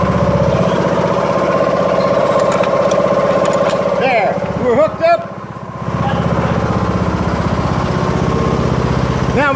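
Riding tractor mower engine idling steadily throughout, loud and close, with people talking over it and a brief dip in the engine noise midway.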